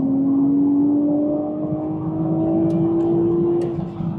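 A BMW Z4 M40i roadster with a single-turbo engine pulls hard under acceleration, its steady engine drone rising slightly in pitch over several seconds, loud and close with wind and road noise beneath.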